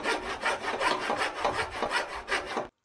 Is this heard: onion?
no